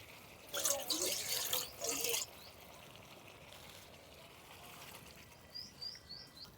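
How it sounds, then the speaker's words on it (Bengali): Water poured into a rinsed bowl that held chicken marinade, a short splashing burst lasting under two seconds, then a quiet room with faint bird chirps. "ম্যারিনেট করা পাত্রটা ধুয়ে সামান্য একটু জল দিয়ে দেব"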